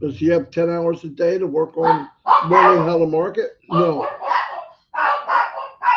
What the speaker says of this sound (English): And you can hear the dogs barking